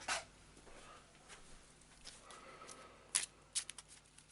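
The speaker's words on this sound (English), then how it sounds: "Crappy shuffle." Someone shuffles a deck of Eldritch Horror board game cards, giving a soft, quiet riffle with a few sharp snaps near the end.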